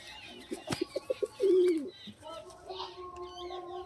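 Madrasi high-flying pigeons in a Kolkata loft give a soft run of short coos, then one longer rolling coo, close by with faint background murmur.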